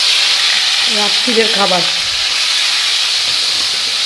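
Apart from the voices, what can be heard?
potatoes and peas frying in hot oil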